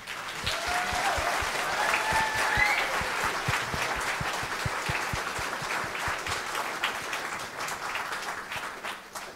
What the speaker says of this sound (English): So I'd love to give them a huge round of applause.